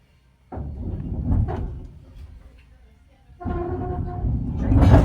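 A Strasburg Railroad train car jolts as it couples, then lurches into motion, with two heavy clunks and rumbles a few seconds apart, close and fairly loud.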